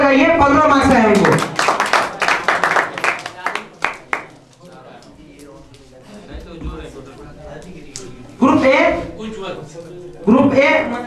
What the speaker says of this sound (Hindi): ग्रुप ए एक बार जोरदार तालियां बजाइए।